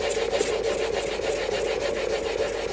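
A bench plane iron scrapes back and forth on a wet waterstone in quick, even strokes, up close and constant with a slight grinding whine and no talking.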